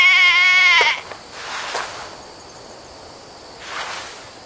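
A single sheep in the video game Assassin's Creed Valhalla lets out one loud, wavering bleat lasting nearly a second. Quieter rustling and faint noise follow.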